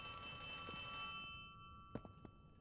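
A telephone rings in the video game Poppy Playtime Chapter 3, a bright electronic ringing tone that holds for over a second and then cuts off, followed by a few soft thuds from the game.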